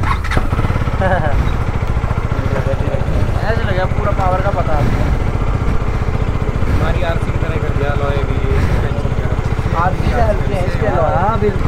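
A KTM Duke 250 motorcycle engine idles loudly and steadily nearby, its low rumble running throughout while people talk over it.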